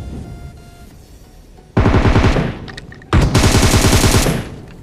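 Automatic gunfire in the BGMI battle royale game comes in two loud, sustained bursts that rattle rapidly, separated by a short quieter gap with faint background game ambience.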